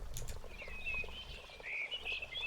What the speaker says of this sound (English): the air was a bit lively with the sounds of birds chirping off in the distance